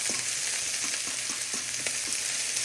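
Red and white onions frying in a pan for noodles, giving a steady bright sizzle with faint soft stirring taps underneath, close and continuous, no voices.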